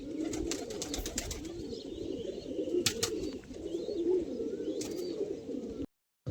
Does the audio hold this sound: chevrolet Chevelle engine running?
no